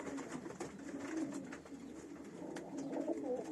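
Young pigeons coo softly and repeatedly nearby, low murmuring calls layered over a steady background hum, with no speech.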